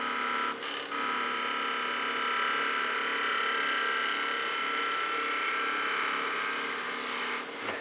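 A skew chisel cuts wood on a spinning lathe while shaping a gnome Christmas ornament, making a steady, continuous high whirring hiss that holds evenly throughout with brief dips near the start and end.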